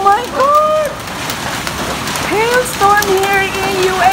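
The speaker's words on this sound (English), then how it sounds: "Hailstorm here in UAE." A dense patter of large hail clatters against surfaces and a car throughout a hailstorm in Al Ain, UAE, while excited voices talk and exclaim over it.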